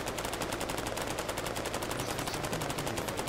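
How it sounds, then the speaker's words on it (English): Rapid automatic gunfire in the video game Cepheus Protocol, a dense steady stream of loud shots running throughout with no talk. "What are you shooting at?"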